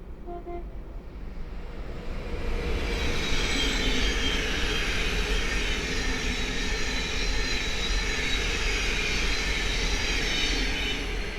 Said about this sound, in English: the next train to pass by is a Thameslink 700 from Cambridge to Brighton